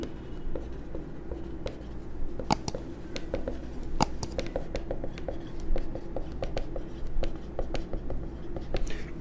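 Pen or chalk writing by hand during a chemistry lecture, a steady run of quick scratchy strokes and taps, close and moderately loud, with no talking over it.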